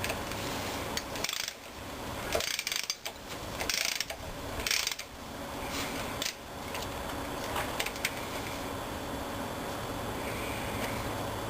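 A small block Chevy V8 turns on an engine stand, with repeated ratcheting, squealing gear clicks in bursts over a steady mechanical hum, close up.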